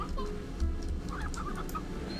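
Hen clucking in the video game Slime Rancher: a few soft, short clucks sit over a steady low game background hum, with no one talking.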